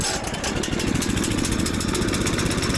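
A 14 horsepower sawmill engine runs close by with a loud, steady, rapid putter that holds an even rhythm throughout.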